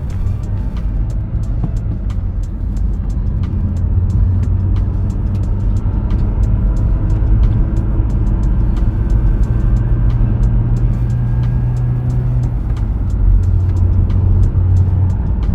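A Mitsubishi Evo X with a short shifter drives along, its engine a loud steady drone from inside the cabin with slight rises in pitch as it pulls, no talking over it.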